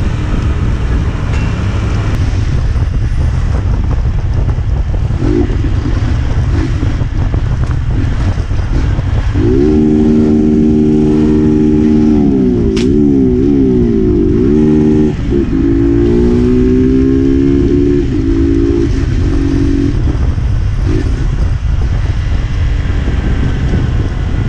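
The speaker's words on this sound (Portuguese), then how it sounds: "Trânsito aqui não é normal" Loud, steady street traffic with cars and motorcycles passing close by, engines droning and rising in pitch mid-stretch as vehicles accelerate, with continuous rumble throughout and no talking.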